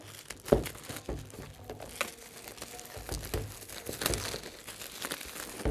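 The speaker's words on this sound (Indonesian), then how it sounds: "kalau biasanya kalau buka yang plastik nih sensasinya beda nih" Plastic wrapping crinkles and crackles as it is torn open on the box of a Feiyu G6 Max gimbal stabilizer, with close, continuous rustling and a few sharper tearing bursts.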